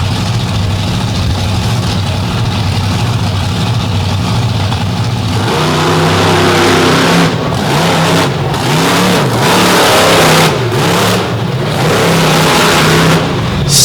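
A truck at a truck-pulling qualifying run idles with a low steady rumble, then revs up hard into a loud, wavering roar that swells and dips close by.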